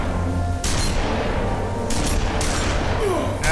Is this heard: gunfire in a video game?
yes